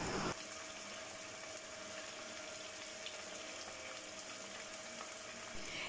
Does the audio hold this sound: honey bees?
no